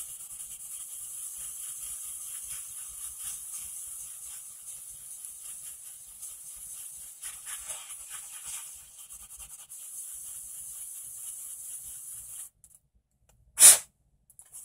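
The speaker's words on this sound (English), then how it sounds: "I'll take my compressed air and blow it all out" Compressed air blows out a machined part for a Subaru side-feed mod, a steady close hiss running continuously for about twelve seconds, then cutting off, followed by one short sharp burst.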